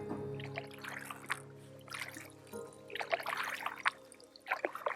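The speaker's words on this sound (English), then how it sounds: "You end up hearing the stroke of the paddle moving through the water instead of the canoe moving through the water." Canoe paddle strokes dip and pull through water on a long wilderness canoe trip, with soft, close splashes and gurgles coming every second or so against a quiet background.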